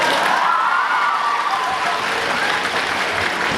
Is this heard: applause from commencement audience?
yes